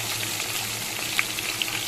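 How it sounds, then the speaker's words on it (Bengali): Fish heads frying in hot oil make a steady, soft sizzle with a few faint pops and crackles, close by and without talk. "আমি মাছের মাথাগুলোকে ভেজে নিই। এক সাইড ভাজা হয়ে গেলে আর এক সাইডও আমি ভেজে নেব, কড়া করে ভাজবো মাছের মাথাগুলোকে।"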